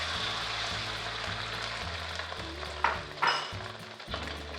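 An egg hits hot vegetable oil in a pan, a steady loud sizzle and crackle that swells with a couple of sharper spatters and faint utensil clinks.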